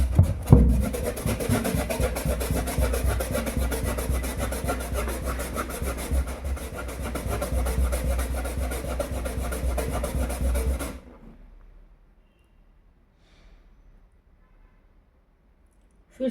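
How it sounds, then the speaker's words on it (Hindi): A balloon is rubbed over an electroscope working model in steady, close scraping strokes for about eleven seconds, then stops. Near silence follows. "तो पहले मैं बलून को इसके ऊपर घिस लेती हूँ।"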